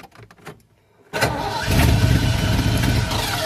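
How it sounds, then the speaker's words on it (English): A car engine with a carburetor primed with gas or starting fluid cranks after a short quiet stretch, then catches and fires up into a loud, steady run, close by. "Crank it over, it'll fire up."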